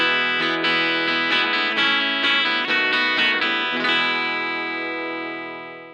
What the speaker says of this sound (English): And this is my modified Gretsch Electromatic.